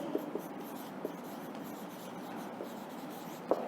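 A teacher writing the word monarchy, faint scratchy strokes with small taps in a quiet room, no talking.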